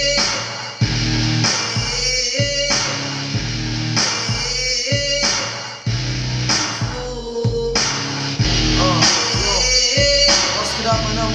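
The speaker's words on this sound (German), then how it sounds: "neuen geilen Beat, Alter, hört sich ungefähr so an, ist aber noch nicht ganz fertig." Unfinished hip-hop beat playing in a recording studio, with steady booming bass notes, punchy drums and layered synth parts looping in a loud, continuous rhythm with no voices.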